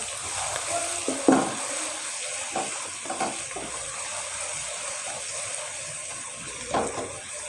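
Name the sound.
garlic frying in a pan while being mixed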